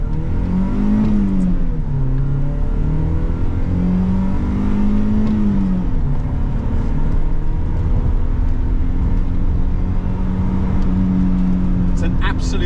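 A BMW E30 318is with a 1.8-litre engine accelerates along a narrow, twisty road, its engine note rising and falling through the gears as a continuous close-up drone, with a voice speaking over it.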